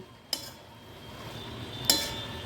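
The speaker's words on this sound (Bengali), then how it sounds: "এবার এটাকে দিয়ে একটু নাড়িয়ে নেব" Cabbage and chhena are stirred in a pan with a low, steady sizzle. Two sharp metallic clinks from the spoon striking the pan stand out, one early and one near the end.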